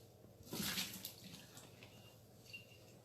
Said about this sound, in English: Now you can see my water looks a little bit starchy. I'm going to just dump that out.